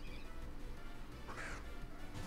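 Staravia, a bird Pokémon, lets out a harsh, cawing cry during a hailstorm battle in the video game Pokemon Fates. The call is short and fairly faint, heard over a dense, steady background of game sound.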